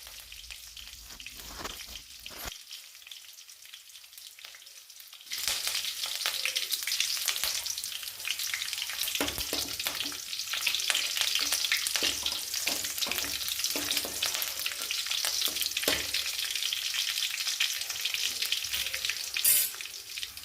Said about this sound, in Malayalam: അതുകൂടെ ഇട്ട് കൊടുത്ത് നല്ല രീതിയിൽ ഇതിനെ ഒന്ന് നമുക്കിതിൻ്റെ പച്ചമണമൊക്കെ മാറുന്നത് വരെ ഒന്ന് ഇളക്കി കൊടുക്കാം.